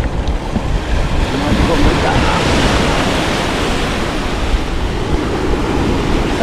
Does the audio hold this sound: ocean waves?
yes